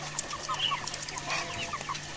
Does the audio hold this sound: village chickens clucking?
yes